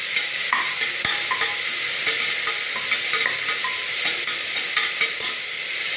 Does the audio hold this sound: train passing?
no